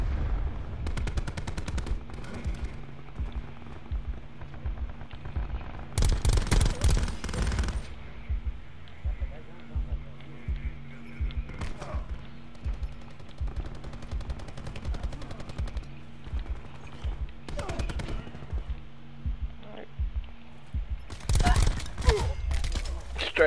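Gunfire in Black Ops 4 multiplayer: loud automatic bursts and rapid rattling volleys recurring through the scene, with quieter shots between and a voice talking over the action.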